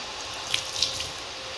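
Running water rinsing a shower during a move-out apartment cleaning, a steady broad hiss with a couple of brief splashy spikes, fairly close and alone without talk.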